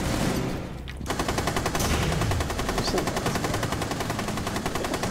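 Sustained automatic gunfire in a shooter video game, a rapid, even rattle of shots running almost nonstop after a brief lull, loud and close with no talking over it.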